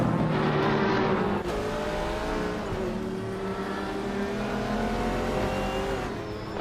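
Race cars, among them a 1985 Toyota Celica Supra, launching off the grid at the start of a race in a racing video game. Several engines roar loudly together and climb steadily in pitch as they accelerate.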